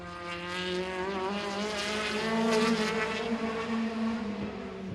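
A midget race car laps Agassi Speedway, its engine a high, buzzing whine with strong harmonics that climbs in pitch as it passes. The car is heard from a moderate distance and swells slightly louder mid-pass, with no voices over it.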